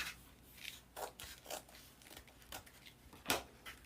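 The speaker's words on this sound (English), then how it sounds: "So we're going to cut this whole side here." Scissors cut along the side of fabric for a handmade fabric pumpkin, giving several soft, brief snips spread across the clip with one sharper snip near the end, close and fairly quiet.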